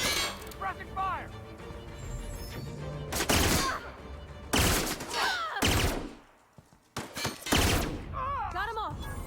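Bursts of gunfire in The Outer Worlds video game come in several loud sharp volleys between quieter gaps, mixed with game effects and voices speaking.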